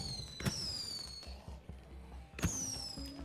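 Fireworks in the video game State of Decay burst twice, each a sharp bang followed by a descending whistle, separated by a low rumbling background.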